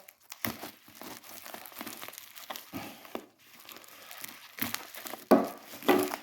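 Crinkling and tearing packaging from a parcel being unboxed, with irregular rustling bursts and a few sharper crackles near the end, close up and fairly quiet.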